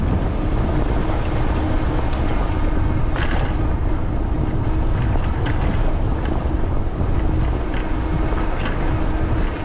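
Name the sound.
headwind blowing during a bike ride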